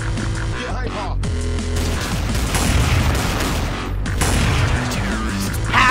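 Video game gunfire in a shooter, with dense rapid bursts and booming shots crowding together over several seconds, loud and continuous, with brief voices mixed in.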